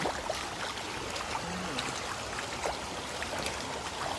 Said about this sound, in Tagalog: Napapansin nyo guys, medyo malakas ang current ngayon.